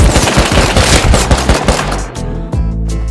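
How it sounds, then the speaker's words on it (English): Loud, rapid automatic gunfire in the survival video game Rust, a dense, close rattle of shots that briefly eases before resuming, with no voices. "I started getting shot from the back"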